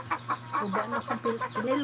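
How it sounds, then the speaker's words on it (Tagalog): A chicken clucks in a quick, repeated series of short calls, close by, with a person speaking briefly over it. "Ayan, may manok."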